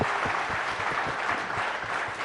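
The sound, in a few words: audience applause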